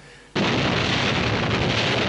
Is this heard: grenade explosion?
yes